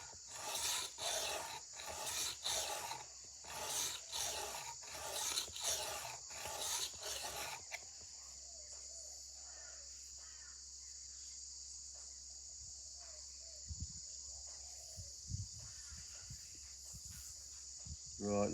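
A Sanrenmu knife is hand-sharpened on Shapton ceramic stones, with about ten rhythmic, close scraping strokes in quick succession, followed by quiet with a few faint taps.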